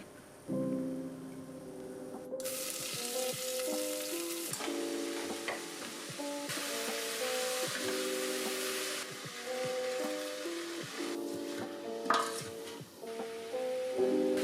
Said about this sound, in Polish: Zaczynamy oczywiście od podsmażenia pora i czosnku na oliwie.